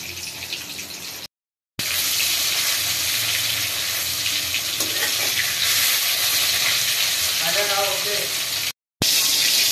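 Fish fries in oil in a pan with a constant crackling hiss, broken by two brief silent gaps and a few clinks.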